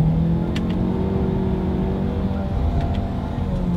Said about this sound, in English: Let's do a quick little paddle shifter test here, and let's see how quickly they react for us.